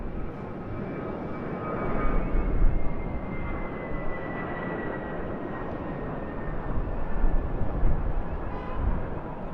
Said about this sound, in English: our Sri Lankan Airbus A330 from Colombo